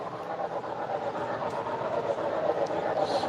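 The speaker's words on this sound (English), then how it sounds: "There's a little train running here." An HO scale model steam engine, a 4-8-4 type, runs along a layout with a steady, soft rolling rumble and a faint rhythmic clatter that holds evenly throughout.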